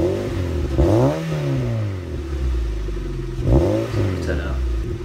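Mazda MX-5 NC with an aftermarket exhaust blips its engine twice, each rev rising and falling in a deep rumble over a steady idle.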